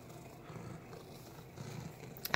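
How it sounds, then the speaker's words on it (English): A pampered pet cat purrs softly and steadily at close range, a low continuous rumble with no talk over it, ending in a brief louder rustle. "Spoiled kitty, you know that?"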